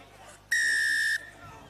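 A referee's whistle at a rugby league cup match between Lézignan and Saint Gaudens, one loud, sustained shrill blast of under a second, heard close over faint crowd and commentary.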